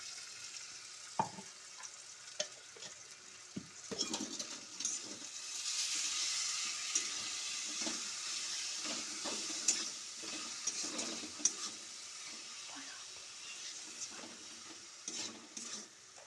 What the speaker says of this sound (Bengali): আমি গুড়টা দিয়ে একটু আমের টকটা ফুটতে দিয়েছি নাড়াচাড়া করে নিয়েছি